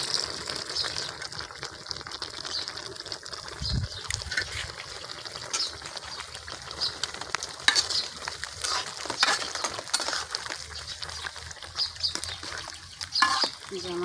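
Cumin seeds go into a hot pan in a village kitchen, giving a crackling sizzle with scrapes and clinks of stirring, while a voice talks over the cooking.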